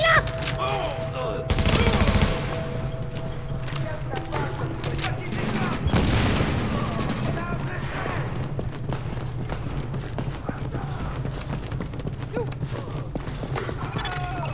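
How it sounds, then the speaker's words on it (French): Gunfire from a rooftop in the video game The Division, a loud, dense stream of rapid shots and bursts running nonstop, with heavier volleys near the start and middle, and speech faintly underneath. "L'escorte essuie des tirs en provenance du toit."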